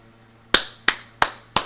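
Sharp, hard impacts from a frying pan striking someone in a Scream 6 horror movie scene, four loud evenly spaced hits with quick decays over a faint low hum, no talk.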